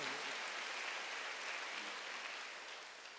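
A church congregation applauds during a Wednesday worship service, a soft, continuous wash of many hands clapping that fades slightly toward the end.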